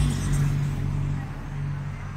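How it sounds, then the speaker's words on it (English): A noisy car rolls past in a garden setting, its loud bass music thumping low and steady, close by and fairly loud from start to end, with no talking over it. "Sorry for the noisy car there. I guess they think everybody wants to hear their bass."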